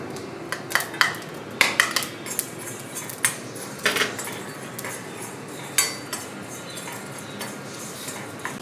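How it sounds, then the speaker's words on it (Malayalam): Spices are sautéed in oil in an iron pan for beef vindaloo, with sharp metallic scrapes and clinks of a spoon on the pan over a soft background sizzle. "പിന്നെ നമ്മൾ ഒന്നുകൂടെ വഴറ്റുന്നുണ്ട് എണ്ണയ്ക്കകത്തിൽ"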